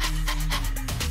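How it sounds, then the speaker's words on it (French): A dog pants in quick, rhythmic breaths close by, loud and alone, with a faint whine woven in. "Tu es un bon chien."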